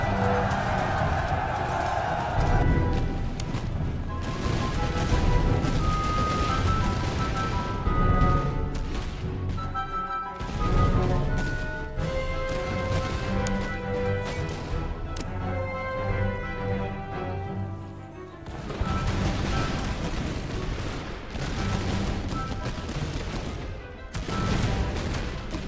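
Musket volleys and grenade blasts in Master of Command crackle and thud continuously, layered with battlefield clamor and music, staying loud and dense throughout with short dips.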